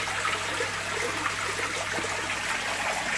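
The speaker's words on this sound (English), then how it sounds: "Really chuck some of that old water out down the drain, and then we'll refresh it all with some fresh stuff." Old aquarium water from a shrimp and fish tank pours steadily down a drain during a water change, a continuous close gushing and trickling with no speech.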